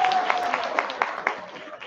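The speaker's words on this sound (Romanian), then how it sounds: "Aplauze!" Brief applause from a school audience at a high school freshman ball, a short burst of scattered claps lasting under two seconds, moderately loud and somewhat thin.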